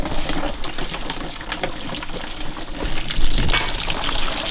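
Subaru Impreza WRX coolant splashes and gurgles as it drains out of a radiator hose, a continuous close liquid pour with a surge near the end.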